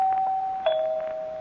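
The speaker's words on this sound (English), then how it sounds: "ring the doorbell again" A doorbell used as a radio drama sound effect gives two clear, sustained electric rings in quick succession. It is moderately loud, with nothing else heard.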